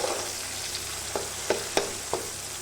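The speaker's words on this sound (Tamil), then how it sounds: "இந்த வெங்காயம் தக்காளியெலாம் நல்லா வதங்கி வந்துருச்சு." Onions and tomatoes sizzle steadily in a pan for a goat head meat curry, with a few sharp scraping clacks as they are stirred.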